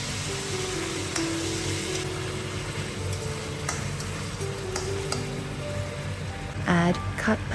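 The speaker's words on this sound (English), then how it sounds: "Add scallion, ginger, garlic, and spices to fry the aroma out." Scallion, ginger, garlic and spices frying with chicken in a wok in rural China: a continuous soft sizzle with scattered clicks of stirring and a couple of louder utensil knocks near the end.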